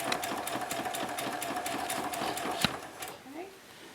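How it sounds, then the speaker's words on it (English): Sewing machine running steadily while back stitching a seam on a homemade protective mask, with fast regular needle pulses that stop near the end, followed by a few faint handling sounds. "make sure you do your back stitching so you get a good seam"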